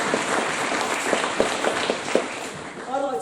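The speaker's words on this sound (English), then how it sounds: "I think they deserve another big round of applause," Steady audience applause at a school open evening, a dense wash of clapping with a few sharper claps standing out, before a voice starts speaking at the end.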